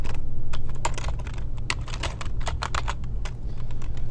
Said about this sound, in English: If we type in a search term such as confused